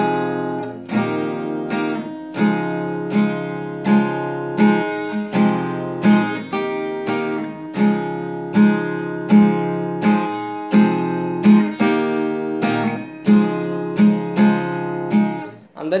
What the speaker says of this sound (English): So with single downstroke or just even two downstroke on each chord, the pre-chorus will sound something like this.